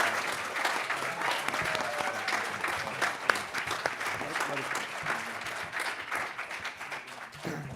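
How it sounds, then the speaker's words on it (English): A large audience at a Q&A event breaks into sustained, dense applause lasting several seconds, a steady wash of many hands clapping with faint voices mixed in. "Can you give them a massive round of applause, please?"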